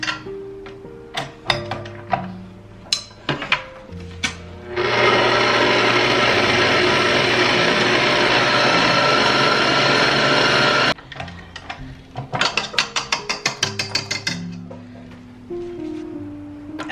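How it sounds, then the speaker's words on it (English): Electric mixer with a whisk attachment whipping a cream cheese layer in a bowl, a steady loud whir for several seconds, framed by sharp clinks and taps before and after. "I'm gonna switch this to my whisk because this is not getting very fluffy"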